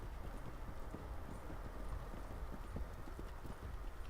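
Horse hooves clip-clop steadily in the Red Dead Online video game, a continuous rhythmic run of hoofbeats over a dense ambient background, with no talking.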